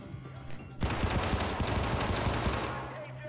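Rapid automatic gunfire from the Syndicate video game erupts in a dense, loud burst lasting a few seconds, with shots rattling one after another before tapering off.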